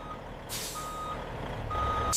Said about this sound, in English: A truck docks for Scotch whisky loading.